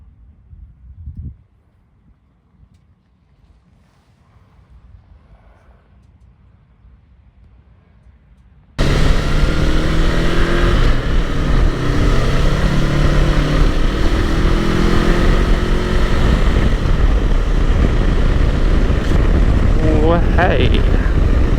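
A Honda NX500 adventure motorcycle bursts to life after a quiet opening, its engine note loud and close with a steady droning roar under wind rush, climbing through a rising whine toward the end.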